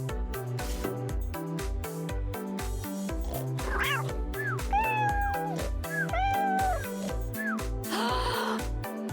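Cartoon cat meows in the Toca Boca Avatar World game, several short rising and falling mews over a looping bouncy music track, close and clear.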